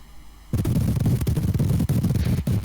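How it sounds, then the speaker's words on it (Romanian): Fireworks are set off inside a house: after a quiet moment, a sudden loud barrage of rapid crackling bangs starts up close by and keeps going. "Dă cu artificii în casă."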